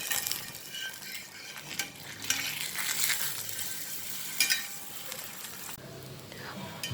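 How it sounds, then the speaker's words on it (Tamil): Ragi adai cooking in oil on a pan over a low flame, a soft continuous sizzle with faint scraping and tapping, fairly quiet throughout. "இதை சிம்மில் வச்சு வேக வைங்க, வேகிறதுக்கு கொஞ்சம் டைம் ஆகும். எண்ணெய் சைடில் விட்டுட்டே இருங்க."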